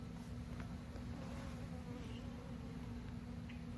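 Honey bees buzz steadily at an open hive as a frame is handled, a soft, continuous drone with a few individual insects passing close by.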